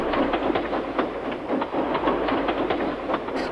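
A steam engine shunting rolls steadily along the rails at night with a rhythmic clickety-clack and a low rumbling churn, close and continuous throughout.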